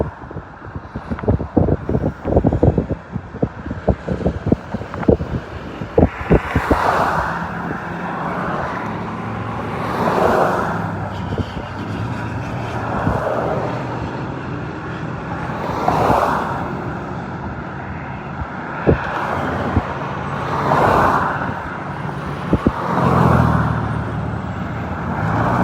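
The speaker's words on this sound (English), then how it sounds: "this is on the southbound 15 freeway, right before Main Street, between Bear Valley and Main Street" Vehicles rushing past on the southbound 15 freeway near Main Street, between Bear Valley and Main Street, at an accident scene: repeated loud whooshes every few seconds over a constant road roar, with wind buffeting the microphone.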